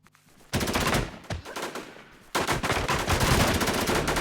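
Gunfire in the video game Infestation: a short faint shot, then two loud bursts of rapid automatic fire separated by a brief lull, close and dense, with no talking.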